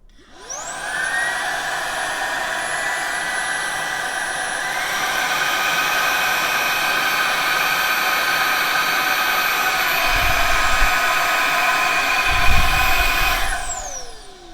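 A HiKOKI R36DB 36V multi-volt cordless vacuum cleaner runs steadily with a loud, airy whine that rises in pitch as the speed is increased, with a couple of low thumps near the end before it spins down.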